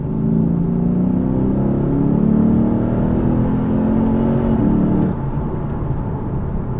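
A Lexus RC F coupe's naturally aspirated 5.0-litre V8, in Sport Plus with manual mode and a downshift, roars loudly and steadily, pitch rising, then eases back as the revs drop near the end.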